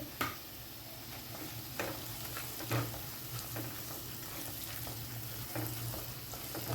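Chopped onions frying in a pan for pav bhaji give off a soft, steady sizzle, broken by light scraping and ticking as they are stirred.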